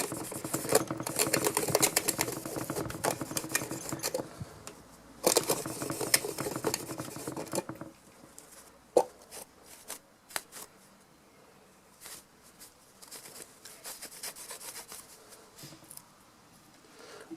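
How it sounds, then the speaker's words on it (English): Chrome polish being scrubbed by hand onto a Suzuki Bandit dash light, a dense rubbing rasp for about eight seconds, then softer, scattered strokes and small taps close up, with no talking. "Give that a good scrubbing"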